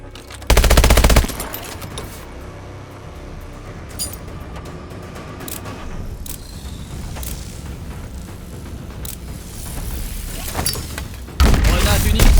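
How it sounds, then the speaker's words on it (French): Grenade training explosions in Call of Duty Advanced Warfare, two loud booming blasts near the start and end with gunfire and game noise between, under a spoken voice. "Activation de l'entraînement aux grenades."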